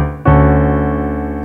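Piano playing the next part of a song, a sustained chord struck after a short pause and ringing on, decaying slowly, close and fairly loud with no voice.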